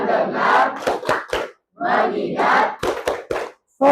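A classroom of students does a rhythmic focus clap, sharp unison claps in short patterned bursts with brief pauses, mixed with group chanting.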